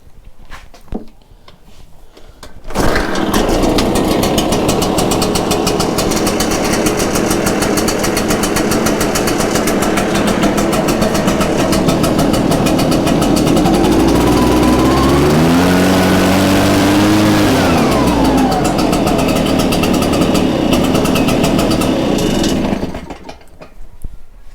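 After a short quiet lead-in, a small two-stroke engine that has been flushed with fresh fuel catches on the pull and runs loud and close, a buzzing drone that revs up and settles before cutting off near the end.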